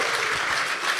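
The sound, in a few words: audience applause to vote for a badge hack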